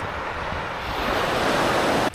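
Ocean surf washing onto a beach at Quy Nhon, a steady broad rush that swells slightly louder before stopping suddenly near the end, with no voices.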